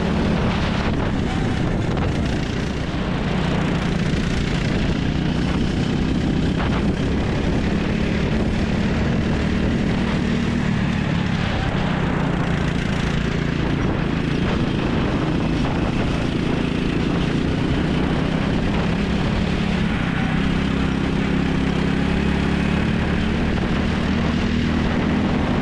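Go-kart engine racing around a damp Whilton Mill track, a loud continuous buzzing drone that rises and falls in pitch through corners, with steady wind noise over the microphone throughout.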